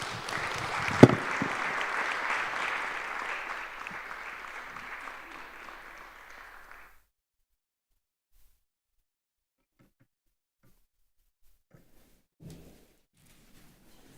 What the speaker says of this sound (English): please join me in giving them a round of applause for their